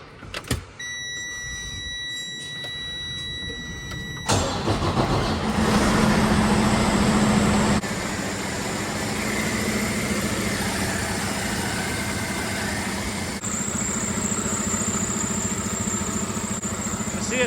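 A Freightliner 114SD truck with a repaired cracked radiator cranks briefly after a short whine, then its diesel engine catches and settles into a steady, fairly loud idle that continues to the end.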